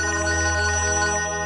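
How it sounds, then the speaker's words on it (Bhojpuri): A mobile phone ringtone plays loud and close in a family home, a sustained bright electronic melody with no talk over it. "अरे अंजलि के फोन आवता"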